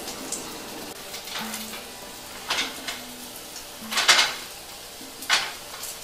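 A tortilla-wrapped burger cooks in a pan under a weight, giving a soft sizzle with several short metallic clinks and scrapes from pan and utensils, close and fairly quiet.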